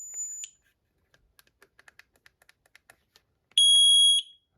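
A PETAVERN G5 dog training collar lets out a short high electronic beep, then a run of quiet rapid button clicks as the setting is adjusted, then a second loud beep at a different pitch.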